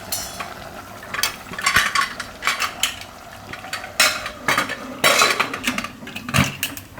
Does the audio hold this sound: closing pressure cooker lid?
yes